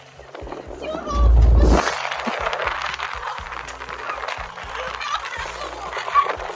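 Dogs aboard a ferry bark excitedly at seagulls on a cold, rainy, windy crossing, a burst of loud barking early on followed by repeated yaps over wind and engine rumble.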